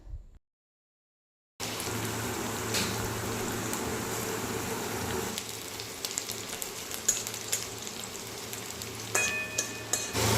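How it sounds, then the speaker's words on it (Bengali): Chopped onions drop into hot oil after a brief silence, then fry with a dense, continuous crackling sizzle, close and steady, dotted with small pops and occasional stirring clicks, no voices present. "এবার আমার কুচি করে রাখা পেঁয়াজগুলো দিয়ে দিচ্ছি।"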